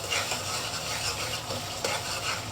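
Whole five-spice seeds fry in hot oil for pickle, a soft, continuous sizzle with light stirring scrapes and a couple of faint clinks.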